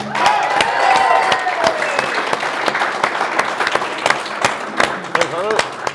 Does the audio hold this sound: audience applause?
yes